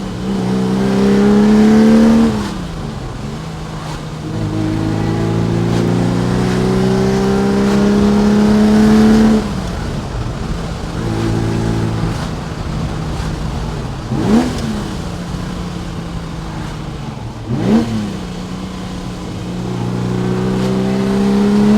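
A 1969 Ferrari 365 GTC with a 4.4 liter engine accelerates hard through several gears, the engine note climbing and dropping at each shift, loud and close from inside the cabin.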